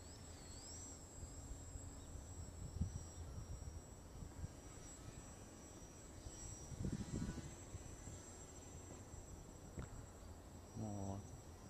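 An RC Factory Edge 540 electric model airplane flies in a windy park, its thin high motor whine wavering as it passes at a distance, with gusty wind noise and brief faint voices.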